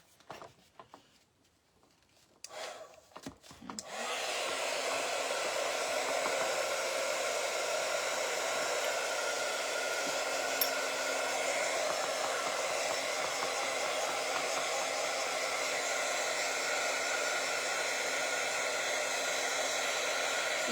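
A hair dryer switches on after a few seconds of quiet handling noise, then runs as a loud, continuous whooshing whir close by for the rest of the clip.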